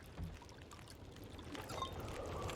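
Water is drunk in the survival video game The Long Dark, a faint, continuous pouring and trickling sound over a low, steady background with no voices.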